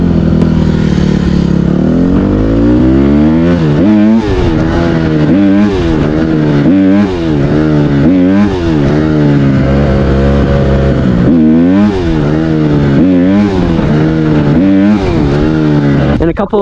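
Honda CRF150RB dirt bike engine revving hard in repeated rising and falling surges during wheelies, loud and close throughout with a continuous droning tone.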